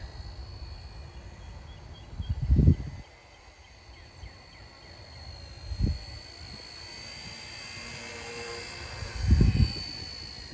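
Small electric RC Era C032 UH-1 model helicopter flying, a steady high-pitched whine from motor and rotors throughout, with three loud low thumps or bumps spaced several seconds apart, close to the microphone.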